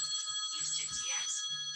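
Mobile phone ringtone trilling briefly with steady high tones, faint and close, over a voice talking.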